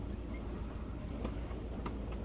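A Copper Canyon passenger train runs along the tracks with a low, steady rumble and a few faint, scattered clicks, heard quietly from inside the car.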